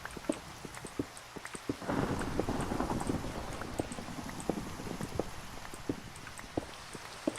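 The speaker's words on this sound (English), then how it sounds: "Oh, yeah, it is stormy." Rain sets in during a Minecraft thunderstorm, a steady hiss with a low thunder rumble swelling up after a couple of seconds, punctuated throughout by regular soft clip-clop taps.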